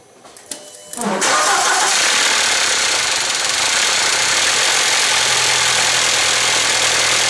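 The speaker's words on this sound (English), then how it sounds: "This is the engine noise it has." A car engine with a fault cranks and starts, then settles into a loud, steady running roar close by, with a continuous rough undertone, and no talk.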